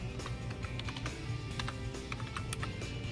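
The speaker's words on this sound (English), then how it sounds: "you're going to go to the navigation bar and you're going to type in" Someone types a web address on a computer keyboard, a steady run of close, crisp key clicks with light irregular rhythm and no talking.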